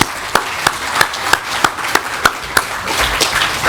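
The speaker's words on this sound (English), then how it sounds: "all of you deserve a round of applause" Applause at the USTA Florida 75th anniversary celebration, though it sounds like a single pair of hands: about a dozen sharp claps in an even, slightly quickening rhythm, close and crisp over a faint room murmur.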